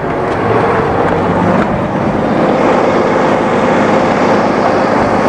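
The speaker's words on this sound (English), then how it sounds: "Can you hear that Cummins humming along?" Cummins diesel engine idling in a 2018 Tiffany Executive Freightliner ST2216 motorhome, a loud, steady low rumble with broadband roar held evenly throughout, close by and without speech.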